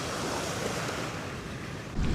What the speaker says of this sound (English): the wind and the waves have gotten a little more robust out here